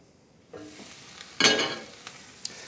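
Mixed vegetables sizzle in a pan on a cooktop. A quiet hiss swells into one loud burst of frying while they are stirred, followed by a few faint clinks.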